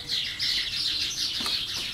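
Birds chirp in quick, high tweets, a busy overlapping chorus that carries steadily throughout with no talking.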